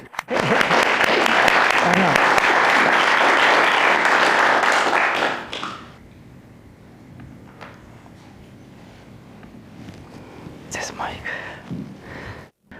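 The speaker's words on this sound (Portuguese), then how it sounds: "Uma grande salva de palmas para Zulfi." An audience at a church gathering applauds a Muslim speaker named Zulfi, a loud dense burst lasting about five seconds before dying away to a quiet room with scattered murmurs and a voice near the end.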